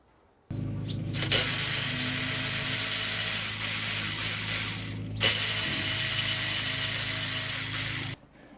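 A socket ratchet loosens the transmission pan bolts on a Ford EB Falcon automatic gearbox, giving a close, continuous rapid clicking whir for about eight seconds with a brief pause midway and no talking.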